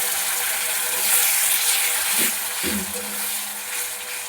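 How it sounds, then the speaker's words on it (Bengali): Spices with Kashmiri chilli powder and a splash of water cooking in a pan, a loud continuous close sizzle with a couple of stirring scrapes, no talking. "এর মধ্যে সামান্য পরিমাণে জল দেব দিয়ে মশলাটা খুব ভালোভাবে কষাবো"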